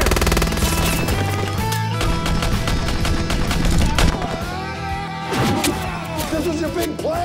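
Bursts of gunfire ring out in an action-horror movie trailer scene, rapid automatic volleys layered with dramatic score and effects, loud and dense throughout.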